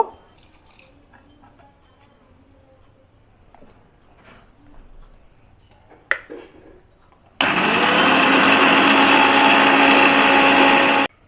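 Electric mixer grinder grinding fried spices and dried kharkol leaves into paste. A few faint clinks and a sharp tap come first, then the motor starts with a loud, steady whirring roar that runs to the end.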